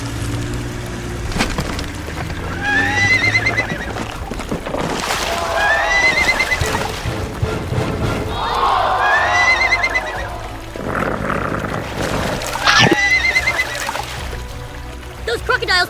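Several horses neigh repeatedly, their loud whinnies rising and falling in bursts alongside woody knocking and clopping near a river bridge, with steady background noise throughout.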